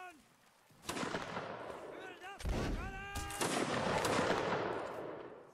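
Video game gunfire crackles in repeated bursts of sharp shots, with rising whistling tones mixed in, fairly loud and continuous after a quiet start, with people talking over it.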